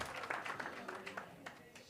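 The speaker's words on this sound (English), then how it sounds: "One more time, a round of applause for our finalists." Quiet, brief applause from an audience at a pitching challenge workshop and expo, honouring the finalists; scattered claps sound in uneven bursts, with some voices mixed in.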